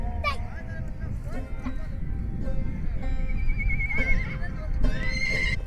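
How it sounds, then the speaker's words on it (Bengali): Horse whinnying repeatedly close by beside a goods-carrying horse cart freshly bathed at the Jamuna riverbank, with several rising neighs over steady background noise and crowd murmur. "সেই ঘোড়ার গাড়ি গোসল করানোর পর নিয়ে যাচ্ছে।"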